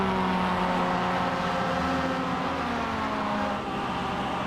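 NASCAR Cup Series race cars roar through group qualifying at Richmond Raceway, a steady, loud, continuous engine drone with layered tones holding throughout, no individual pass standing out.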